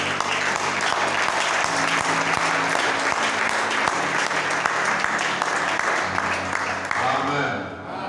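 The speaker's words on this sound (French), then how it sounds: "On applaudit pour le pasteur." Church congregation applauding for the pastor, dense sustained clapping from a large crowd mixed with voices and cheering, continuing throughout before easing slightly at the end.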